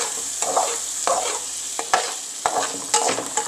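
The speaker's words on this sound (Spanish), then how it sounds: "Vamos a sofreír por unos 5 a 4 minutos." Rice and shrimp sautéing in a pan, a soft steady sizzle broken by repeated scraping stirs of a spoon, about six distinct strokes at a moderate pace, close by with no talk.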